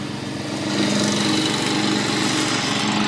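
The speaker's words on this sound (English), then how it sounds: "he's mowing" A lawn mower runs outside with a steady, unbroken engine drone that swells slightly after the first second and holds at a constant level, with no talking.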